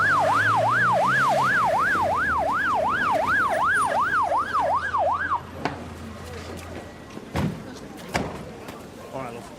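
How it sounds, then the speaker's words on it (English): An ambulance siren wails in a loud, fast rising-and-falling pattern for about five seconds in a street scene before cutting off, followed by thuds and muffled background activity. "now that'll be the ambulance."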